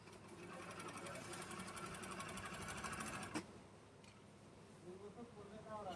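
An overlock sewing machine runs after its thread tension has been tightened. It gives a fast, even mechanical whirr of stitching up close, ends with a sharp clack, and then a faint voice is heard.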